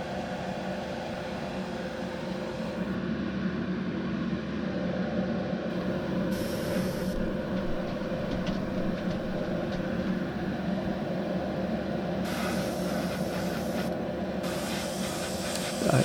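Steady hiss of an airbrush spraying paint onto fishing jig heads, a continuous close airy spray lasting throughout with slight shifts in tone as the angle changes.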